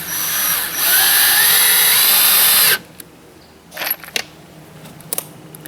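Power drill whirring loudly as it drives a self-drilling screw into wood for about three seconds, then stops, followed by light clicks and clinks of screws and tools nearby.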